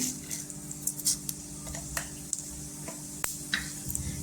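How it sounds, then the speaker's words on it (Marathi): Mustard and cumin seeds crackling in hot oil with a bay leaf, a soft continuous sizzle dotted with scattered small pops and ticks, fairly quiet and close. "मोहरी छान अशी तरतरली पाहिजे"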